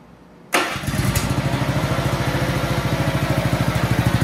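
Small engine fitted with a quiet muffler starts abruptly after a moment of quiet, then settles into a steady, rapid idle putter heard up close.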